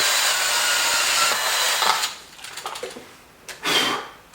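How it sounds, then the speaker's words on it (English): An 18mm hole saw on a power drill whirs with cutting grind for about two seconds, then stops, followed by scattered scraping and a brief second burst of noise. "Again, this is with the 18mm hole saw."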